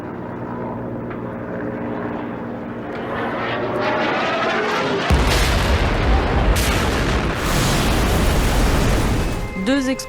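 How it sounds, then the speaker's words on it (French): Explosions in the Syrian capital, Damascus: a sustained roar and heavy rumble swelling into a sudden loud low-frequency blast midway, with a continuous dense boom lingering afterward. "Deux explosions ont frappé la capitale syrienne ce matin"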